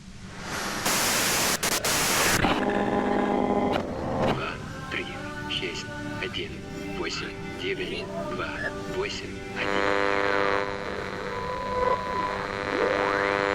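Hissing static-like white noise in the video game Disco Elysium, loud and steady across the clip, with warbling electronic tones and shifting chirps woven through it.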